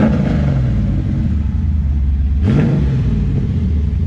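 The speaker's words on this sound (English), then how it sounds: "now we're going to take you on a little drive and test these babies out" A 1993-97 Pontiac Firebird drives along, its engine a steady loud rumble from inside the car, with a brief rise in revs midway.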